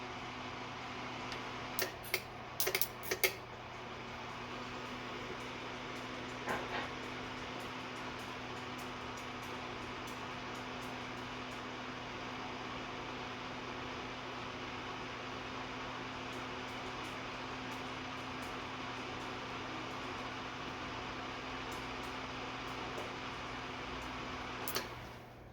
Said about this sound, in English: So I'm going to put the heat on for heat mode, let that run for a few seconds